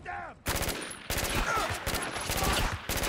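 Gunfire from the player's gun in the video game Spec Ops: The Line, loud rapid automatic bursts in several clusters with short pauses between them, right up close, following a brief voice at the start.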